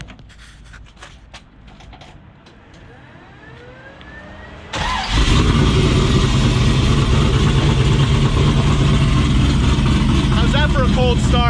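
An LS V8 swapped into a Jeep Cherokee, fitted with truck injectors, cold starts after a quiet stretch of ticks and light noise. The engine catches abruptly and settles into a loud, steady, close idle.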